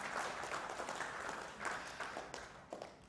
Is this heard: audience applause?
yes